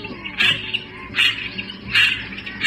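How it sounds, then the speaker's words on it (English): A garganey, a small dabbling duck, gives three evenly spaced, dry, rasping calls that sound close and clear over a low background, with no voices present. "the bird is the gargany"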